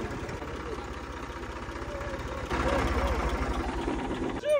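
A tractor engine runs steadily and close by as it works a field with a plough. Its low throbbing grows louder partway through.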